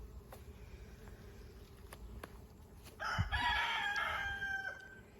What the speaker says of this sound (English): Goddamn rooster